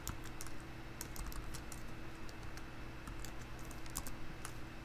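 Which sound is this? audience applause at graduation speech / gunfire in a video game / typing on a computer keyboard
typing on a computer keyboard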